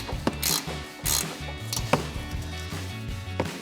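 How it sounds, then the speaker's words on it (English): An 18mm ratcheting wrench loosens the upper strut mounting nuts on a Ford F-150 during a front coil-over shock install, giving quick, close, rhythmic metallic clicking in short bursts with a few sharp knocks between them. "So we've got our 18mm ratcheting wrench,"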